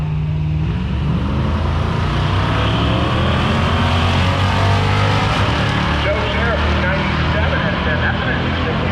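Loud, steady engine roar from drag racing cars at Gainesville Raceway, including a 1975 Dodge Dart Sport and an S10 pickup, droning continuously with some revving, while a voice talks over it.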